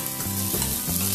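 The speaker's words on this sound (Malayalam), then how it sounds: "സിമ്മില് വെച്ച് വേണം ഇത് വഴറ്റിയെടുക്കാനായിട്ട്." Finely chopped ginger and thin-sliced green chillies sautéing in oil on a low simmer for puli inji, a close continuous sizzle with a few stirring strokes.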